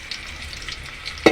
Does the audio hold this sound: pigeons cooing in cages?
no